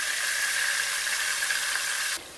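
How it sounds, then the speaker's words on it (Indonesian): Spice paste and chili sizzle in hot cooking oil for spicy fried noodles, a loud, steady hiss that runs unbroken for about two seconds, then drops away abruptly. "ini bumbunya ditumis sampai dengan benar-benar matang"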